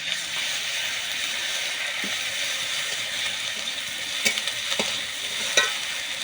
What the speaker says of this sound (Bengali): টমেটো পেঁয়াজ দিয়ে হালকা একটু নেড়ে চুড়ে নিলাম